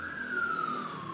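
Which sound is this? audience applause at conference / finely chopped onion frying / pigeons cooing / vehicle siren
vehicle siren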